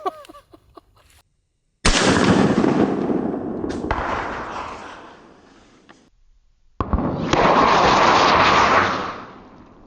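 Two loud outdoor gunshots from a Kriss Vector in .45 ACP, each a sharp crack followed by a long rolling echo that fades over several seconds, with faint clicks before the first.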